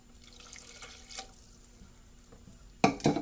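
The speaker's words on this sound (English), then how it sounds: "Now I'm going to pour a 1/2 cup of water." Half a cup of water is poured into a homemade dinner-roll dough mix, heard as a short, fairly loud splash and trickle that comes near the end, after quiet kitchen handling noises.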